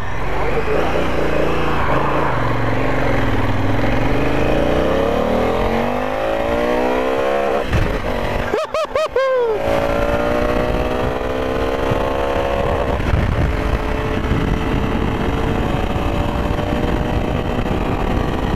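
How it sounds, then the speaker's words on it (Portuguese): A loud Honda Africa Twin motorcycle engine revs and accelerates, its pitch sweeping upward twice with a brief break between, close by and roaring over background noise. "vocês escutar o barulho do motor na hora que eu sair"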